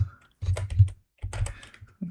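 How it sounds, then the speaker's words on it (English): Computer keyboard typing and clicking close to a microphone, heard in two dense bursts of rapid keystrokes separated by short pauses. "Sorry for the clicking of the keyboard."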